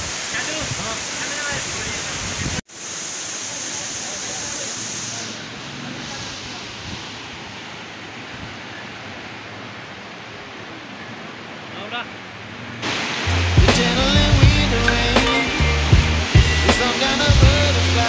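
Hillan Waterfall in Azad Kashmir roars as a loud, continuous rush of falling water, with a brief cut early on and a louder, busier stretch near the end where voices and nearby activity join the torrent.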